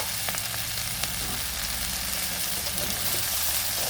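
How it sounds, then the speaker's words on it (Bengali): Cauliflower fries in a pan with a steady, close sizzle and soft crackling that keeps going without a break. "আর 2 মিনিট ভেজে নেব, তারপরে বাকি মশলা দেব।"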